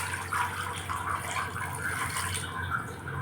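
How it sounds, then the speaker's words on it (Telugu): Water poured from a glass into a pressure cooker while making raw mango juice, a steady close splashing and trickling that runs for a few seconds in a home kitchen. "గ్లాసు నీళ్ళు వేయాలండి"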